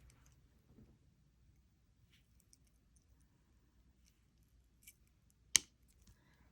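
Jewelry wire snipped once with wire cutters, a single sharp, close click standing out against near silence, with a few faint small taps and handling noises around it.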